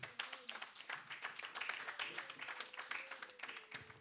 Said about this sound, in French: Acclamons pour Dieu.